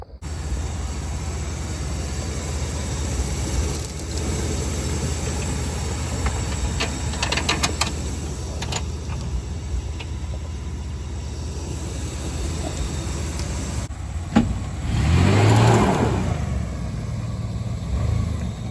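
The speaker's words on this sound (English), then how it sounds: "We're gonna move the vehicle in now with the black S10" A black Chevrolet S10 pickup with one wheel locked up rumbles steadily at a Watermelon Fest event, its engine growling continuously before surging into a loud rev near the end as the wheel spins.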